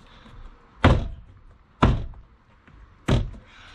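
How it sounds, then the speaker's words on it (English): Three separate heavy thumps, about a second apart, as plastic door card clips on a Mini One, Cooper or Cooper S (R50/R53) are banged into place inside the door, each knock close and sharp with quiet between. "going all the way around, banging them into position, and they should go together"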